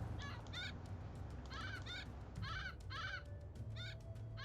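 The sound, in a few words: owl soldier transforming into a bird, Age of Mythology video game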